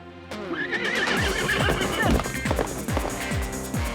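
A cartoon horse gives a loud, wavering whinny over quick galloping hoofbeats, with energetic music or effects layered underneath.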